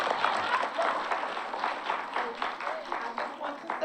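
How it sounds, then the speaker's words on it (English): A small audience claps for Dr. Colbert at an Oak Park art event, a steady patter of hands lasting a few seconds, moderately loud and fairly close, with some voices mixed in. "Can we all give Dr. Colbert a round of applause?"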